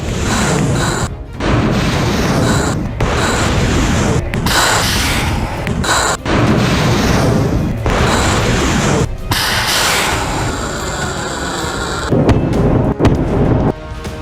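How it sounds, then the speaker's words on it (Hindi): A multi-barrel rocket launcher fires a rapid volley of rockets during a military drill, loud booming blasts and roaring bursts repeating in quick succession with brief gaps between them. "लंबी दूरी तक मार करने वाली MBR यानी मल्टी बैरल रॉकेट लॉन्चर से ताबड़तोड़ अंदाज में रॉकेट दागे गए।"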